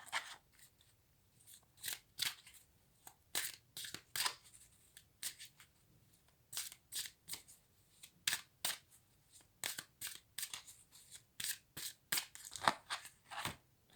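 Tarot cards being shuffled and cut by hand give a series of crisp, close slaps and riffles in irregular clusters, quiet overall with no talking.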